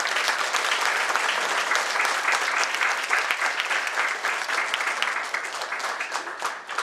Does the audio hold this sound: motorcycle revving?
no